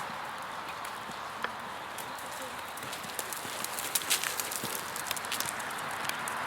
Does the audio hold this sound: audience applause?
no